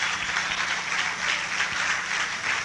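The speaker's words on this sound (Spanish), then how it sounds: "Dale un aplauso a Jesucristo." A congregation at a church service applauds in a steady, sustained wash of clapping at moderate volume, with no clear speech over it.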